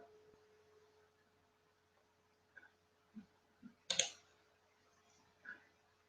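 A few sparse, quiet clicks from a computer mouse during an online flight booking, with a louder sharp click burst near the middle and a steady faint tone underneath; no talking.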